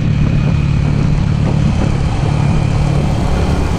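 A Chinese 125cc air-cooled motorcycle rolls downhill on a hot day, its engine a steady, loud low drone close to the rider, with wind rush over the top and no talking.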